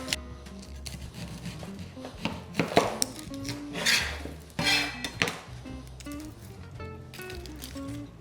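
A knife cuts the ends off an onion on a cutting board in a home kitchen, giving several sharp taps and thuds mixed with faint clinks of dishes and utensils, close up.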